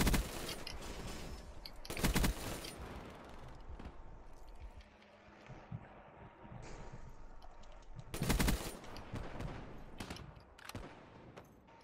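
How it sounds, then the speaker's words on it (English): Galil rifle on rapid fire in Black Ops 3, heard as two loud, close bursts of automatic gunfire several seconds apart over quieter game ambience. "Now, all along, the Galil just needed rapid fire, and now it's a godlike gun."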